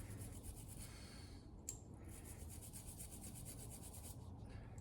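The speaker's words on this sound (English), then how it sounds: "I'm going to finish cleaning off some of this blue Loctite that's on here." Blue Loctite is rubbed off a motorcycle bolt from M8 Softail docking hardware, making a faint, continuous scratchy scrubbing in quick back-and-forth strokes, close up, with no talking.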